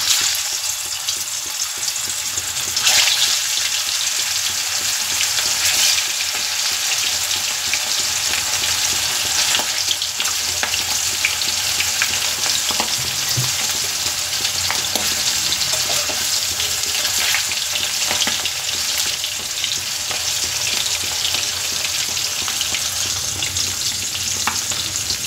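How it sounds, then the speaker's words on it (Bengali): Fish frying in smoking-hot mustard oil, a loud, continuous broad sizzle and crackle with occasional spatters, steady throughout with no talking. "এবার মাছগুলো এক এক করে ভেজে নেব।"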